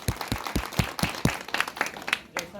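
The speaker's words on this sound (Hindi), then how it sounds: "तालियां।" Applause from a crowd at a village panchayat gathering, a string of distinct claps at moderate distance, fairly quiet and somewhat uneven.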